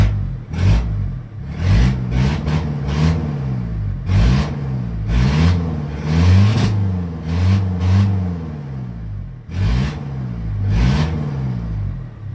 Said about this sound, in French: c'est un moteur qui n'a pas besoin de grand-chose pour démarrer